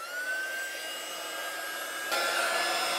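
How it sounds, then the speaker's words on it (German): A hair dryer heating up for heat embossing runs with a steady, close whoosh and a whining tone. It gets slightly louder near the end, with no talking. "Dazu lasse ich den Föhn wie immer ein bisschen heiß werden."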